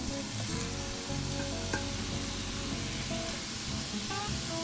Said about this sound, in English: So now what I'm going to do is add in the crawfish tails.